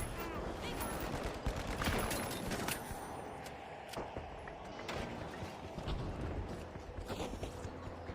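Gunfire in the shooter game The Finals, quick scattered shots and bursts crackling over a busy, fairly quiet game mix with mechanical clanks.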